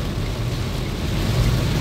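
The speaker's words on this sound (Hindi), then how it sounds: "और ये बारिश गजब बाय गजब, देखो ये बारिश" Heavy rain on the Indore-Ahmedabad expressway between Godhra and Dahod, a loud dense constant wash of rainfall with a low rumble beneath, steady and close throughout.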